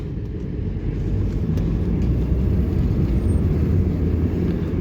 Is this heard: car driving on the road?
yes